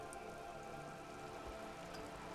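Soft, steady rain falling in the video game Disco Elysium, a faint even hiss with scattered tiny drips, no voices.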